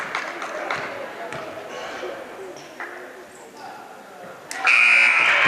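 A buzzer sounds during a girls' high school basketball game in a gym. It is a loud, sustained electronic tone near the end, after commentary and crowd noise.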